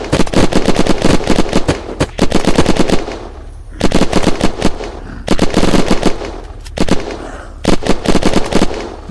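Heavy machine gun in the Unturned video game fires loud rapid bursts, several long strings of shots separated by brief pauses, close and dominant with no talking.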